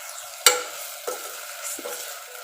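A utensil scrapes through cluster beans, potatoes and garlic in a hot pan, with three distinct stirring strokes over a continuous soft sizzle and no voices.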